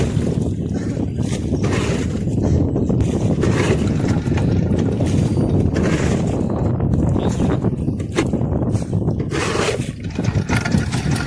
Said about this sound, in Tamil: இன்ஜின் அடிக்கணும் போகிறோம் நாங்கள்.